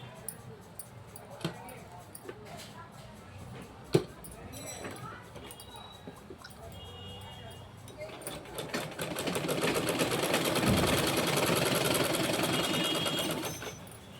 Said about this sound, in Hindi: इस निशान से हमको इस तरह मिलाना है और इस तरफ सिलाई लगा देनी है।